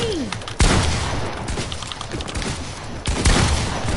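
Video game gunfire in Fortnite: two loud, sharp shotgun-like blasts about two and a half seconds apart, each trailing off, with scattered quieter shots and in-game effects between them.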